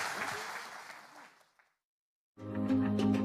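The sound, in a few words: congregation applause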